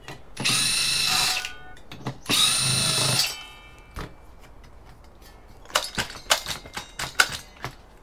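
A power driver fitted with a Torx bit removes screws from a Sun Microsystems server, with two loud whirring bursts of about a second each, then a pause and a run of sharp metallic clicks and rattles.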